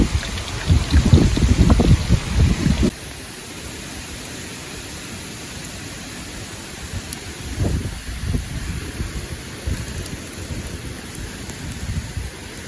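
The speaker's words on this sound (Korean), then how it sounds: "바람도 아까보다 확실히 불어요." Strong gusting wind of Typhoon Hinnamnor in Jeju, roaring loud and broadband for the first few seconds, then dropping to a steady rushing hiss with renewed gusts swelling later.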